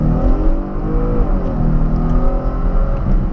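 Loud, continuous in-cabin roar of a Porsche Panamera 300 hp V6 pulling hard above 4000 rpm, a damped engine drone with climbing harmonics, no voices over it.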